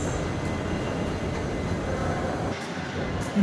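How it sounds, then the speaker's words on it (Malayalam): Steady low rumbling of a metro train interior, a continuous even roar of rail noise with no speech. "മെട്രോയിലാണ് കേട്ടോ മെട്രോ വെയിറ്റ് ചെയ്യാണ്"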